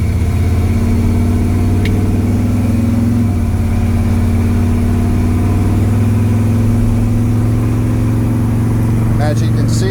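A 1955 Ford F100 hot rod truck with a 2600 RPM stall converter cruises down the road, its engine giving a steady, low droning hum from inside the cab.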